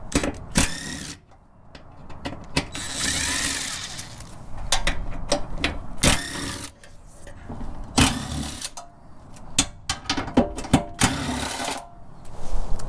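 Ratchet loosening 12 mm bolts on a bumper bracket during a dual swing arm rear bumper install, with repeated clicking bursts, close and fairly loud, broken by short pauses.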